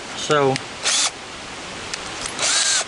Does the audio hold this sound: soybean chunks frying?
no